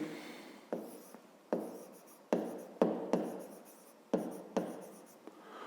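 A pen scratches out a fifth-grade division problem by hand, with a series of short, distinct writing strokes and taps spaced irregularly, close and quiet with no talking.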